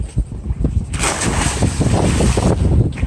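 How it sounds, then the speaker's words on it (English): Person diving off a boat into the sea, a sudden rushing splash about a second in, followed by loud churning water and wind buffeting close to the microphone. "I'm going to dive over the edge now just to rinse off and then swim to the dinghy"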